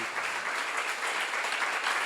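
Congregation applauding during a church seminar, a brief, steady wash of many hands clapping together at moderate loudness.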